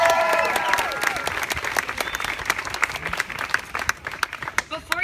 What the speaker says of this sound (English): So let's give Andrea and Maddie another round of applause for sharing their story.